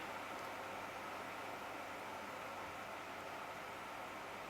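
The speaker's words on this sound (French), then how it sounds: "Je suis désolée pour le ventilo, hein. Je sais que vous détestez ça, mais j'espère que vous l'entendez pas trop." An electric fan runs steadily indoors, a constant broadband whoosh with no change in level throughout.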